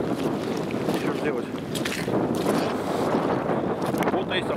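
Blustery wind outdoors on a cold, rainy winter day near freezing during a hare hunt, a steady roaring rush buffeting the microphone throughout, close and fairly loud, with no clear pause in the gusts.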